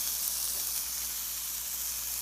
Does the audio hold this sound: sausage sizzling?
yes